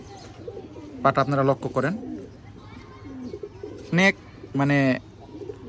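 A pigeon coos in short bursts under a man's close, steady talk, with several brief harmonic calls standing out between his words.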